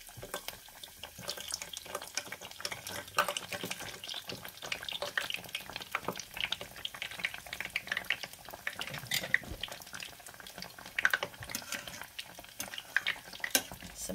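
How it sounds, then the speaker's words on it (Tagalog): Chicken pieces fry in hot oil for a crispy chicken sandwich, a steady, crackling sizzle with dense popping spatters throughout, close and moderately quiet, with no talking. "ngayon mainit na yung ating mantika, iprito na natin"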